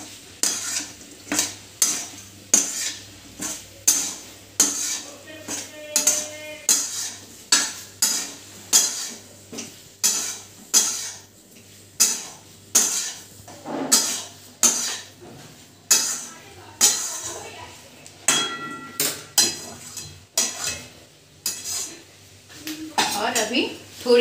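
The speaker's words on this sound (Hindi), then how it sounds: "जो पनीर को भून के रखे थे उसको अभी इसमें डाल देंगे। और अभी मसाला को अच्छी तरह से इसके साथ मिक्स कर लेंगे।" Fried paneer stirred into masala in a pan, loud repeated scraping and clinking strokes of a spoon against metal in a steady rhythm over a light sizzle, close up.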